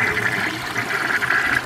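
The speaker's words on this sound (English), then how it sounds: "Now I have that really long towel to flush." A 1946 Kohler Trylon toilet flushes with a long towel in the bowl, a loud, close, steady rush of water throughout.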